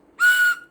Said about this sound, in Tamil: இன்னைக்கு விசில் சூப்பர். இங்கே பாருங்கள், குட்டி விசில்.